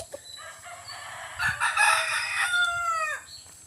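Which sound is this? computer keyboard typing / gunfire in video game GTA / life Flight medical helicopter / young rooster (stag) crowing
young rooster (stag) crowing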